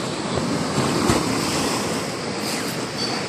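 Powerful sea waves crash and surge along a shore where typhoon-season spray reaches a second floor, a loud, continuous roaring wash with gusting wind and no voices.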